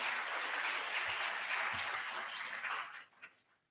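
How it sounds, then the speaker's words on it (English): An audience at an inaugural lecture applauds a professor, a sustained bed of clapping that runs evenly for about three seconds and then tapers off quickly into a few scattered claps. "I think he deserves a round of applause, for this"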